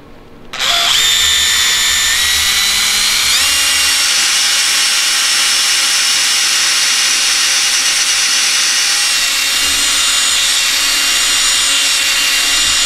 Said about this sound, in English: First thing I do is I try to get kind of an eyesight of my line to drill it, and then I use a number 8 bit.